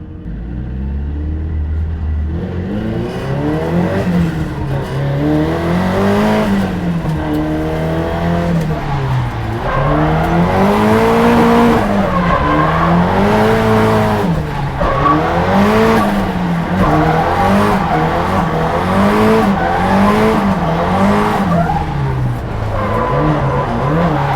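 A 450bhp Nissan 180SX driving on a track during a day of test laps, its engine rising and falling through repeated revving swells with tires squealing, loud and continuous throughout.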